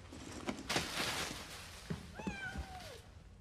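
A cat gives one clear, gliding meow near the end, after some soft shuffling and footstep-like knocks in a quiet room.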